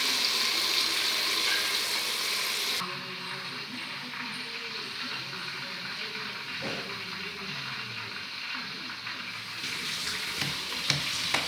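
Chicken biryani fries under a lid in a pot, making a steady sizzle that starts loud and bright, turns muffled for a long stretch, then brightens again near the end, with a voice speaking over it.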